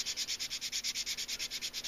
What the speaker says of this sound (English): So we're going to go, keep sanding,